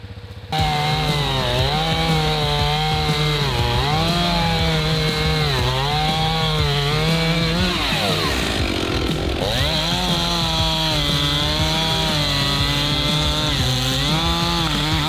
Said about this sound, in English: But I have to get my chainsaw, cut a couple tree limbs up, move a couple sticks.